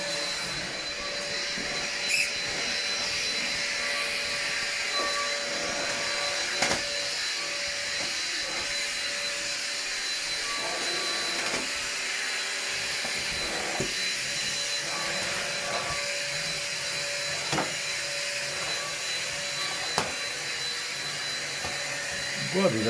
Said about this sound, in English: This vacuum cleaner that I bought here